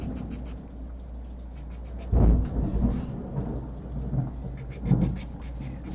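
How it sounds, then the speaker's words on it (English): Heavy thunder rumbles outside during a thunderstorm, one deep loud crack-and-roll arriving midway and a second lower rumble later, over a steady bed of rain. "Some loud thunder out there."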